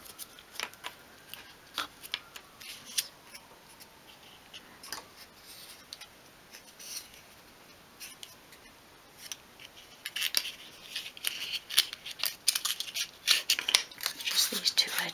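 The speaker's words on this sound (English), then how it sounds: "I'll just trim those edges." Scissors snip along paper edges while trimming a template for miniature 1/12 scale suitcases, giving quiet, scattered cuts early that turn into a denser run of sharp, close clicks and snips toward the end.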